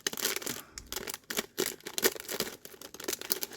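Scissors snipping and tearing open a plastic Lego parts bag while building the Technic 42100 Liebherr R 9800 excavator, a close run of crinkly cuts and rustles.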